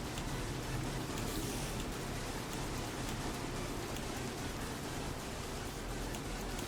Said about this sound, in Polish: Deszcz pada i chlapie